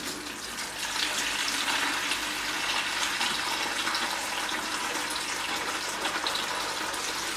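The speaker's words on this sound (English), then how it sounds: "All I'm really doing is siphoning the fish muck off." Water rushes steadily through a siphon hose as muck is drawn out of a new discus aquarium tank, a continuous gushing flow close by with no one speaking.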